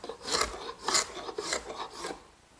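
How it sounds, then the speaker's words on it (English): A hand scraper rasps over wood to remove dried glue, making four or five short, close scraping strokes in a quick uneven rhythm. "the excess is removed just using a hand scraper"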